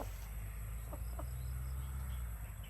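Mother hen clucking in a farmyard: a few short, soft clucks stand out over a steady low hum, faint and fairly close.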